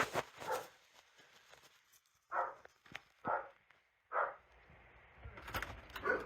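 A dog barks a few times in short separate bursts at a moderate distance, with quiet gaps between them and some faint whimpering.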